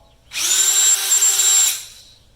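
A DeWalt cordless drill spins up and runs steadily for just over a second, loud and close, with a high whine over a broad motor buzz, then winds down. Nothing else is heard.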